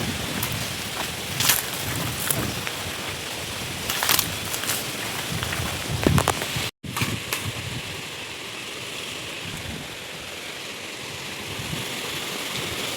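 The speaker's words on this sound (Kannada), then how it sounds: "ಗಾಳಿ ಎಷ್ಟು ಜೋರ ಬೀಸ್ತೈತೆ" Strong wind roars steadily across the microphone, a loud rushing buffet with occasional sharper gusts and one brief dropout.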